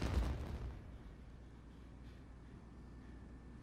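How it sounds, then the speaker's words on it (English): A loud, deep explosion booms in Genshin Impact, a single blast that decays into a quiet rumbling tail. "Did you hear that explosion? Maybe it was fireworks."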